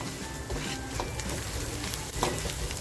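Masala spice mix frying in a pan for a mutton dish, giving a steady close crackling sizzle with a few brief stirring scrapes.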